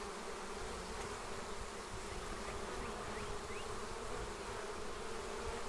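Honey bees swarming around a hive and a medium super set out after harvest: a continuous buzzing drone of many insects, steady and fairly faint, with an occasional louder bee passing close.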